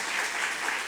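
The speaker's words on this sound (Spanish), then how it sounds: "Y ya este aplauso me abrumó" An audience bursts into applause at a talk on drug policy, a dense, even wash of clapping held steady for a moment.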